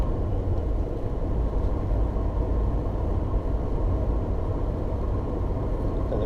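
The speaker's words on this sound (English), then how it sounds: "I'm just going to do a single clutch upshift into 4th" A car engine cruising in 4th gear right after a single-clutch upshift, giving a steady, even low rumble with no change in pitch throughout.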